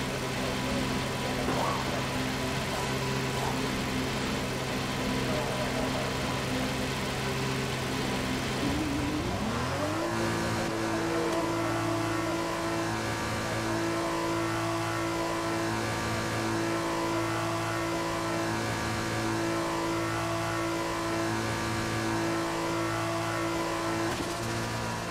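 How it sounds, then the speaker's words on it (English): An F2 race car in the F1 2021 video game sits idling in the pits at Monaco, then the engine note climbs sharply and settles into a steady, loud higher-pitched hum that continues unbroken. "Engine fired. We're set."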